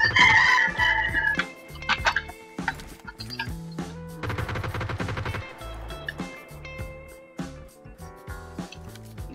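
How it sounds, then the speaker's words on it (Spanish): Gunfire in the battle royale video game PUBG: a loud, busy barrage of rapid shots and bursts, some clustered in fast volleys and others as scattered single cracks, running nearly continuously with no voices. "Disparos atrás también."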